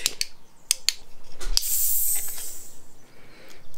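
A container being uncapped during a mukbang: a few light clicks, then one sharp pop as the cap comes free, followed by a couple of seconds of steady airy hissing that fades, close and fairly clear.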